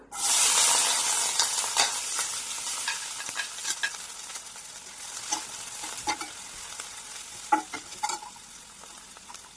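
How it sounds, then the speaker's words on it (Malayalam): Sliced onions hit hot oil in a pan with a loud initial sizzle, then keep frying steadily while a utensil stirs them, scraping and clinking against the pan at irregular moments, close up. "ഇനി നമുക്കിതിലേക്ക് സവാള ചേർത്ത് കൊടുക്കാം."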